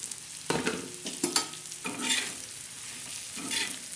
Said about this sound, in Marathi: सुकट असं सर्व मिक्स करायचं